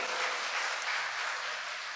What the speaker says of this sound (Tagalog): Palakpak po tayo dyan